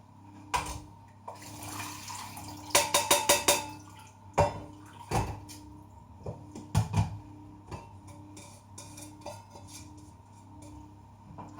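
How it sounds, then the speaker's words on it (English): Water from a cheese soufflé mixture draining through a kitchen colander, with a few sharp clinks of metal and dishes and soft trickling drips in a quiet kitchen, no talking. "While it's just dripping through the colander"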